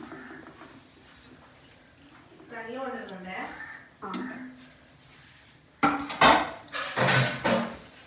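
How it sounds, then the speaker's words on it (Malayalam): Green chillies are pounded for a chicken peri peri mandi: a cluster of sharp, close knocks in quick succession near the end, after a stretch of talk. "പച്ചമുളക് കുത്തുന്നു."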